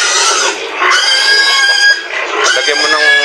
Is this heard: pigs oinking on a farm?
yes